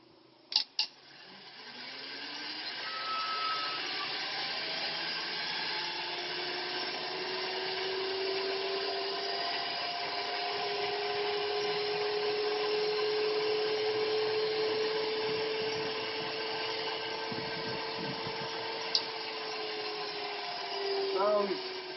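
Mazda MX6 engine idling steadily after its bolts were torqued, a smooth continuous hum with a faint rising whine, nearby and moderately quiet, with brief knocks at the start.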